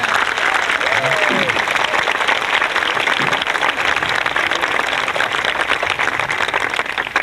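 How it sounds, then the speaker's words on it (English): A 1994 high school graduation crowd gives loud, continuous applause that fills the space evenly, with a few faint voices and cheers mixed into the clapping. "How about a big round of applause for those folks?"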